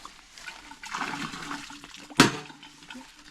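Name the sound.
water filling a device that drops and strikes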